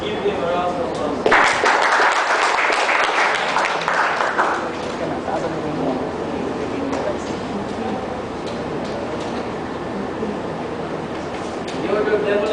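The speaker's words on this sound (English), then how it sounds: "Let's give him a round of applause." Audience applause at an Order of DeMolay ceremony honoring fathers, a swell of clapping that rises for a few seconds near the start, then fades into a murmuring crowd with talk beneath.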